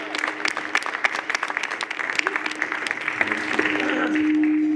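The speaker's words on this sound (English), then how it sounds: "Huge round of applause." An audience applauds for a speaker at a Glassroots talk event, a dense burst of clapping that holds steady and grows slightly fuller toward the end, with a few faint voices underneath.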